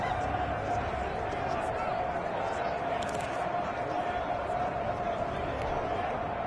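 Stadium crowd in a PS4 American football video game near a two-point conversion, a steady dense roar of many voices held at a constant level throughout, with a commentator talking over it.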